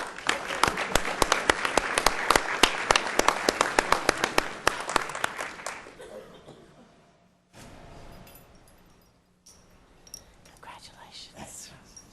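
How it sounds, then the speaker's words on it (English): An audience at a school board meeting claps in a dense, fairly close burst for about five seconds, then the applause fades into quiet room sound with faint murmuring. "Let's give them another round of applause, folks."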